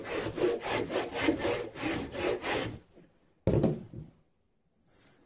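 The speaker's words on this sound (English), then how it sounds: "It's fairly straightforward to file this edge all the way around the flange mold" A hand file rasps along the edge of a fiberglass RC boat hull flange mold in quick, rhythmic back-and-forth strokes, close and scratchy. A pause follows, then one more short burst of filing.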